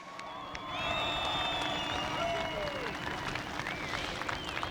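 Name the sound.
crowd applause at Rockingham Motor Speedway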